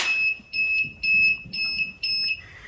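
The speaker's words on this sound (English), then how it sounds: "we call the buzz function, which beeps a few times, you just heard that" A shrill electronic buzzer on a Raspberry Pi Pico handheld beeps five times in an even rhythm during a diagnostics test, each tone loud and piercing with short gaps of near silence between.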